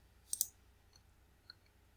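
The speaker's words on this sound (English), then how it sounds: "Just click on send." A single crisp mouse click on the Send button in Postman, sharp and close, followed by a fainter tick a second later in an otherwise quiet room.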